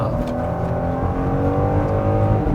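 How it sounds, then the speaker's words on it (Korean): Steady, loud engine drone of a new Genesis G80 sedan under hard acceleration, with an eight-speed automatic, a continuous rising hum heard close with no talk. "가속 페달 밟았을 때 6000rpm대를 넘어가는 순간까지 상당히 잘 가긴 합니다."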